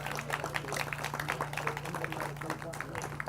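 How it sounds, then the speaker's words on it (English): Audience at a park opening event claps in dense, steady applause for several seconds, a continuous patter of many hands at moderate distance over a low hum. "So a big round of applause,"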